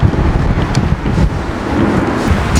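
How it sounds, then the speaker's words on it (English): Strong outdoor wind buffets the microphone in a steady, loud roar of low rumbling gusts, with no speech. "it is so windy."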